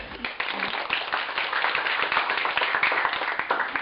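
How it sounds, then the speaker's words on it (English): A class of students claps their hands together in a classroom, a dense, lively patter of many close hand claps running continuously for several seconds. "Let us clap our hands and do the handshake."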